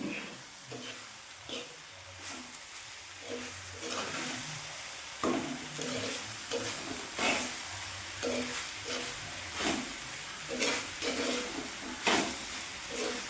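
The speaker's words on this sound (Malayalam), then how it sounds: "നമുക്ക് ഇതിൽ നിന്ന് കൂട്ടി ഇളക്കാം കൂട്ടി ഇളക്കി യോജിപ്പിക്കാം" Green mango thoran being stirred in a pan with coconut paste and sautéed onion, giving a steady soft sizzle broken by repeated scraping and stirring strokes, fairly close and with no talking.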